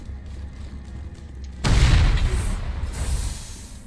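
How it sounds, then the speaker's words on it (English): A sudden loud explosion in the Mass Effect video game, a deep booming burst that sharply rises over a low mechanical hum and then rumbles and decays over a couple of seconds. "Just a random explosion."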